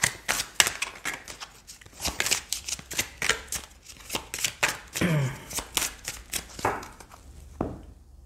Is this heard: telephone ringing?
no